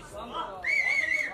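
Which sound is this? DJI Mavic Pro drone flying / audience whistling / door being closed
audience whistling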